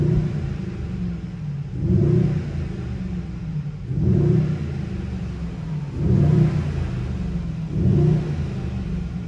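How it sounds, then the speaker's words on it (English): A cold 2021 Mercedes GLS63 AMG fitted with the AMG exhaust is revved in four or five short, regular blips, each deep rumble swelling and falling back to a steady idle, close and loud with no talking. "So now it's time to demonstrate you the sound of the GLS63 AMG."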